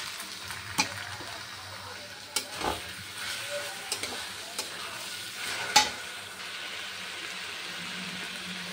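Rice for pulao fries in ghee with cinnamon, cloves and bay leaf as it is stirred, a low sizzle punctuated by spoon knocks and scrapes against the pot, then settling to a quiet fry.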